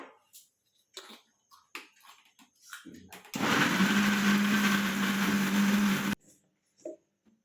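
A mixer grinder whirs loudly for about three seconds while blending ingredients for ABC juice, a steady motor drone that starts and stops abruptly, with someone talking before and after it.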